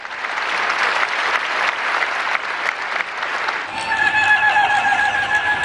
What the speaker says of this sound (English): the crowd burst into applause the moment she was made a saint